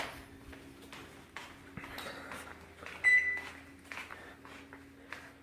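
Malfunctioning microwave oven beeping and ticking on its own in a kitchen, a brief, clear beep over quiet clicks and a faint steady hum, with no talk.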